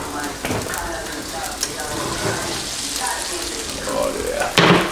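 Soy sizzling and frying in a hot pan while a meal is cooked, a steady crackling hiss throughout with a few clatters and a louder burst near the end, someone talking over it at times.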